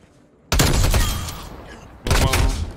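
Loud bursts of video game gunfire from Black Ops Cold War weapons, one sustained volley of shots followed by a short pause and a second close, heavy burst.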